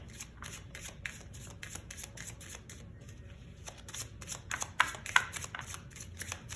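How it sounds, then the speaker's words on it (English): Deck of cards being shuffled during a Sheepy Time board game playthrough, with a quick run of crisp riffling flutters and taps, close and fairly quiet, and no talk over it. "I'll shuffle these while she's waiting."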